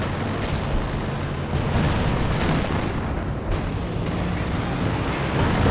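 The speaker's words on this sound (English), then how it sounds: "Ooh, Katusha wipes the Grenadier on retreat there." Katyusha rocket artillery barrage in Company of Heroes 2 battle: a sustained, heavy roar of overlapping explosions and booming impacts, dense and continuous with a few sharper bursts standing out, close and loud, no talking.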